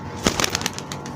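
A pigeon released from the hand takes off, giving a short burst of soft wing flaps close by with no voices.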